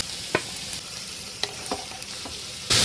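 Mixed vegetables with shredded cabbage, capsicum and tomato sizzle steadily in a pan for restaurant-style noodles, a constant close frying hiss with a few stirring scrapes, ending in a sudden louder burst of sizzle.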